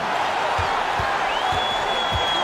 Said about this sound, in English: You gotta love hearing a crowd get this fired up.